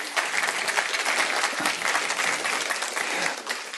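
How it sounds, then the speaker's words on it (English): An audience applauds after a presentation at an education investment conference, with dense, steady clapping that carries on for the whole stretch and does not fade. "Olaf, a big round of applause for this inspiring presentation"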